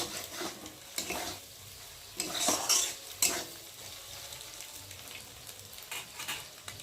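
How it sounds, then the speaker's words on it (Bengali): Potatoes stirred into scrambled egg in a pan while making chowmein, with scraping spoon strokes and light sizzling, a few sharper clinks of metal on the pan, close and moderately quiet. "এখন আলুগুলোকে দিয়ে ভালো করে ভুজিয়ার সাথে নেড়ে দেব"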